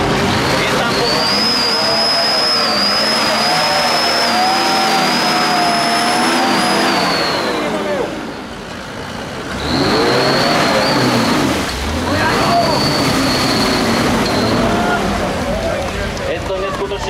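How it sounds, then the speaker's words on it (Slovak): Tractor at a tractor competition in Papradno, Slovakia, fitted with a powerful Mercedes six-cylinder engine, revving loud and close in two long sustained bursts with a brief dip between, with people talking over it. "Je to neskutočne silný motor, 6-válec Mercedes."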